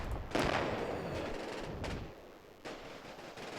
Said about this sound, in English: here we see the barrage called in by this forward observer